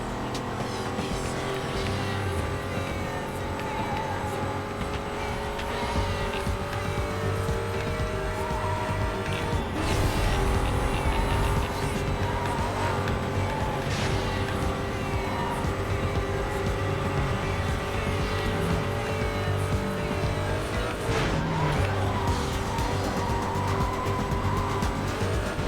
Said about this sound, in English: The high-pitched whine that I want to hear coming out of my exhaust pipes.